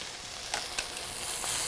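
Beef browning in a hot pan gives a steady, fairly quiet broadband sizzle, with a couple of brief crackles or pops partway through and no voices.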